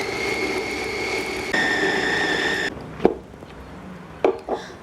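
A food chopper whirs loudly as it grinds a chicken, egg and spring onion mixture, a steady motor drone that changes pitch midway, then stops and leaves a few clunks and knocks.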